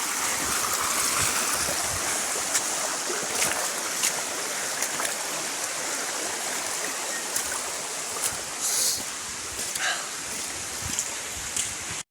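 Water rushes steadily over a stream crossing on a hiking trail up Mt Kapakapanui, a dense close-up burble and splash that continues throughout with small bright splashes on top.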